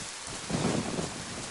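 Steady heavy rain pours in a video game night scene, a dense close hiss that swells briefly in the middle, with no voices over it.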